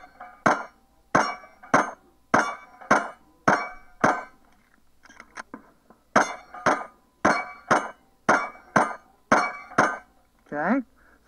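Swinging steel shooting target rung by rounds during practical pistol shooting, giving sharp metallic clangs in an even, rapid series with a brief pause midway, each hit ringing and decaying quickly, loud and close.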